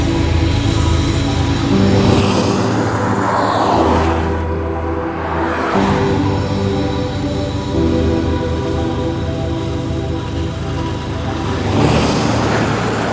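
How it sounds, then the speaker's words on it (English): Steady road traffic rumbles past on a road near Brenham, Texas, with cars swelling and fading as they pass at close to moderate range, a continuous loud wash with no talk. "There are just going to be cars."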